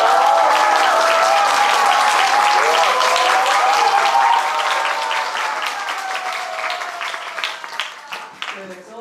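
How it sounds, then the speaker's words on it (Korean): At a book talk, the audience gives sustained applause that starts strong and gradually thins out into scattered claps, with voices calling out over it. "여러분. 박수 주세요."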